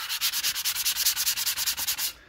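Sandpaper rubbing scratches out of a plastic motorcycle mirror in quick, even back-and-forth strokes, about eight per second, close and steady for two seconds before stopping, with no talking.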